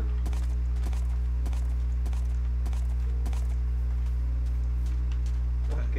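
Horse hooves plod at a walk in Minecraft with the Mo Creatures mod, a steady series of soft clip-clop steps over a constant low hum, with voices talking around them.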